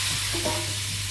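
Oil with a little turmeric sizzles in a kadai as Bengali home cooking for egg-potato curry gets under way, a soft continuous frying hiss with a brief stirring scrape near the middle, close and alone without talk.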